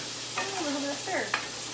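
Onions are stirred in a hot frying pan: a continuous low sizzle with brief squeaky scrapes from the utensil, all fairly quiet and close.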